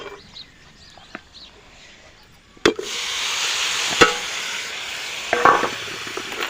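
Tomatoes drop into frying masala with a sharp clunk, followed by a steady sizzle. A few distinct knocks of a spoon against the pan come as the mixture is stirred.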